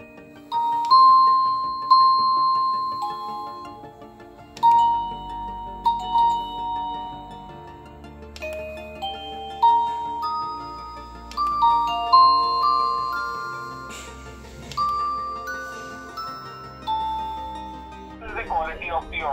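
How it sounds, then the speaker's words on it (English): A smart video doorbell plays a series of chime melodies, bright bell-like tones in short phrases with pauses between them, clear and close, with no talking. "The chime, if connected, would also play a sound"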